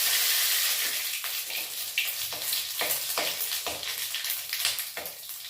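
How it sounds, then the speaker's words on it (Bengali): Radhuni seeds and two dried red chillies sizzle loudly in hot oil for a potato curry, a steady close hiss broken by sharp crackles and pops throughout. "এখানে ফোড়নে দেব রাঁধুনি আর 2টো শুকনো লঙ্কা।"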